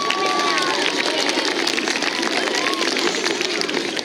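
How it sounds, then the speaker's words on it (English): Sustained applause and cheering from a school audience at an assembly, a steady wash of many hands clapping with a few whistles and crowd noise mixed in. "One more round of applause for them."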